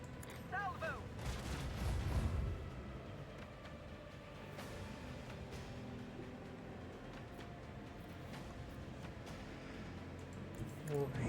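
A salvo of macro cannons fires in a space strategy video game, a burst of deep booming shots followed by a lingering low rumble, with no talking over it.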